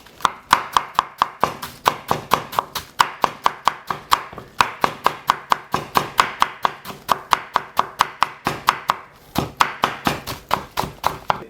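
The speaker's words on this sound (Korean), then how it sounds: "요 정도 높이로 해서 네 이렇게 썰어 주시면 돼요" Knife cutting cabbage on a cutting board in steady, rapid strokes, each one a crisp crunch ending in a thunk on the board, in quick runs with brief pauses, close and clear with no talk.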